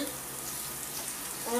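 Chili and spices frying in a pan for a Rajasthani moth bean curry, a steady close sizzle that stays dense and even throughout.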